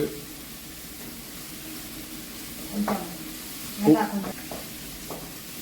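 Curry leaves crackling in hot oil for a spicy chicken curry, a soft steady sizzle with two brief louder spattering bursts and a quiet voice in the background.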